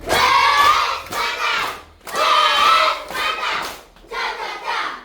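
Schoolchildren in a classroom give a patterned appreciation clap, loud rhythmic bursts of hands mixed with shouted chanting, in three or four surging phrases with short pauses between.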